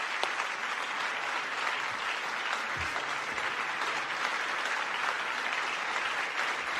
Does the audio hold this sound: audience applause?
yes